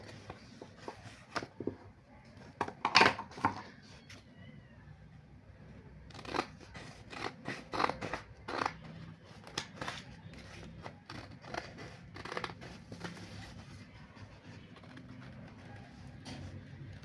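Paper being cut with scissors at a table, a series of short crisp snips and crunches, close and fairly quiet, with soft handling noises between cuts and no talking.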